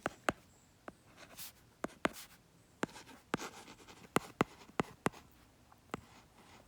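Pen or pencil writing calculus notes, with brisk irregular scratching strokes and sharp taps as marks are made, close and clear, no voices.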